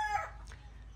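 A rooster at a Tre My F1 gamecock farm in Tay Ninh gives a faint, brief crow at the very start, followed by quiet background.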